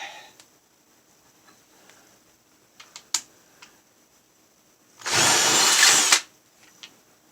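Power drill boring a hole in a metal e-machine case, a single loud burst of drilling lasting about a second amid quiet workshop clicks and taps.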